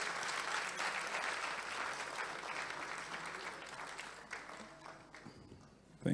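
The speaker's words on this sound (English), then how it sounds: "a round of applause for him as he comes" Audience applause at a memorial lecture as a justice walks up to speak, a steady wash of clapping from a large crowd that holds for about five seconds and then thins out.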